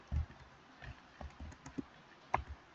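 Keys tapped on a computer keyboard while typing a command in a Windows computer lab, a few soft irregular clicks close by, quiet and alone with no talk.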